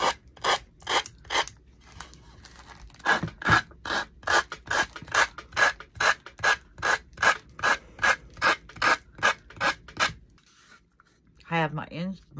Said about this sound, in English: I'm ready to sand down my edges